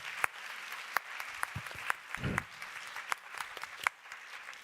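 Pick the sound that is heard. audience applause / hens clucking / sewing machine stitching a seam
audience applause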